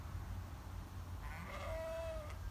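A milked sheep gives a single drawn-out bleat near the end, fairly faint over a steady low farmyard rumble, with no talking.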